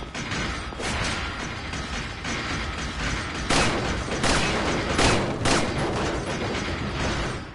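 Gunfire in the Resident Evil 4 remake, a run of loud cracking shots spaced irregularly over dense, busy background noise and mechanical clatter, with no voices.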